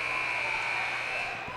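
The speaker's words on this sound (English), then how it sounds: "Buzzer beater attempt is sunk by Aiden Betts." A basketball scoreboard buzzer sounds at the end of the third quarter of a boys' high school game between East Syracuse-Minoa and Jamesville-DeWitt, a loud, steady electronic tone held for well over a second above gym noise.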